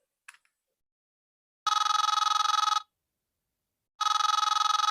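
A telephone rings out twice in a call to Captain Sayed Abdel Hafiz, each electronic ring lasting about a second, clean and fairly loud, with a faint click at the start.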